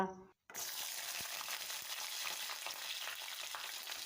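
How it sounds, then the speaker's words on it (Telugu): Cumin seeds and green chillies fry in hot oil in a kadai, giving a loud, steady sizzle with crackling and occasional stirring scrapes after a brief silent gap at the start. "పచ్చిమిర్చి వేసి వేపుకోవాలి"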